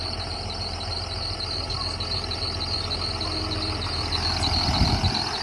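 A tractor engine idles steadily nearby, a constant low chugging drone with no talking.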